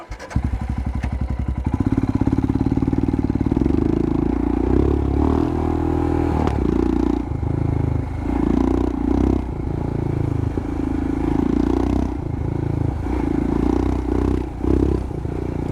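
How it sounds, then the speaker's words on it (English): A Royal Enfield Himalayan fitted with a Lextek exhaust rides along, its single-cylinder engine thumping loud and near, with revs rising and dropping through gear changes and some rattling clatter, no talking. "I will jump on the bike and let you guys hear her while she's moving."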